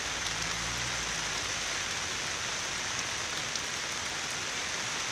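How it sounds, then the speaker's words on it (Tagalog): Steady rain falls in a continuous, even hiss, pattering on a surface nearby with no voices. "Nag-start ng ulan"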